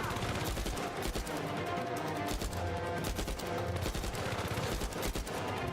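Shotgun fire in the video game Uncharted 4, mixed into a dense, continuous barrage of rapid gunshots and battle noise with no pauses.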